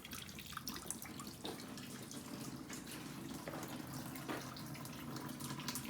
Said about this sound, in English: Okay, I'm draining out the old dead gas.